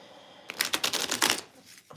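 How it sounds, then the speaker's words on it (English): Tarot cards shuffled in quick, crisp riffles, a close run of papery flutters and snaps lasting over a second, with a softer tap at the end. "Let's just shuffle the cards first."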